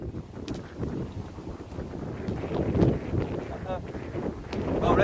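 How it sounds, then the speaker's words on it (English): Wind at Hale buffets a microphone during a dog walk, a continuous low rumbling roar that swells in gusts, with a voice faintly underneath. "just taking Thor for a quick walk in the wind."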